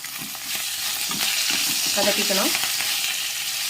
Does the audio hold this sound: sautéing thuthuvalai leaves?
yes